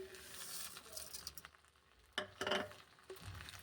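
Sugar being stirred into roasted wheat rava in a pan for motichoor laddu, a faint scraping and sizzling rasp with a couple of louder scrapes near the middle, close up and with no talk.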